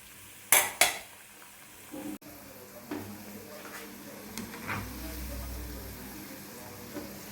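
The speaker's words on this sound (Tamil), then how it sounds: "ஏன்னா அந்த சலசலப்பு அடங்கவே இல்லை" Cauliflower 65 frying in hot oil, a steady sizzle and bubbling broken by sharp clatters of a utensil against the pan early on, with occasional stirring scrapes; fairly close, no clear speech.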